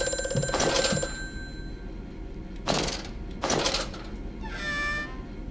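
A telephone ringing in the horror game Amnesia: A Machine for Pigs, with a bright metallic bell trill sounding in short bursts over a low droning ambience.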